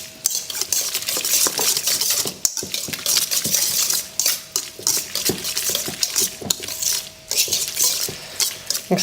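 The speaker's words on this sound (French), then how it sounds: "on va ensuite fouetter le tout." Whisk strokes clatter repeatedly against a bowl while a celery and potato purée is whipped, a loud, close, rhythmic scraping and tapping with short pauses between bursts.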